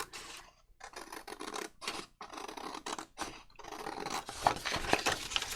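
Scissors cut paper for a junk journal lapbook in a series of close, crisp snips and rustles, each cut separated by short pauses, with no talking.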